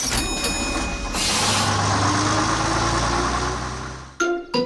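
A cartoon bus pulling away in an animated children's episode, a steady engine hum with a slowly rising whine, ending in a few short tonal bursts.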